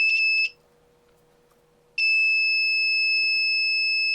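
A loud, high-pitched electronic buzzer, wired to an ESP32 and drawing about 15 milliamps, sounds steadily, cuts out for about a second and a half, then resumes continuously.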